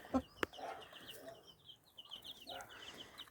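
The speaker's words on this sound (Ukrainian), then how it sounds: "Отакі у нас петрусі, які співають." Chickens and roosters on a farm, clucking and calling repeatedly over a low barnyard background, with sharper close calls near the start and a busy, steady patter of bird sounds throughout.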